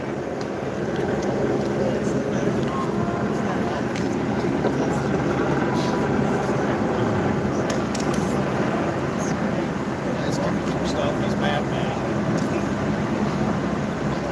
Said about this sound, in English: we got 1, 2, 3 choppers. Choppers sitting up there, LAPD most likely.